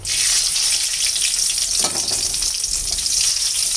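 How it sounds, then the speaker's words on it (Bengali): Dried red chillies and bay leaves dropped into hot oil for a tempering in fish-head dal, a loud, dense, continuous sizzle close up with a brief crackling burst in the middle and no talk. "এখানে শুকনো লঙ্কা তেজপাতা দিয়ে দিলাম"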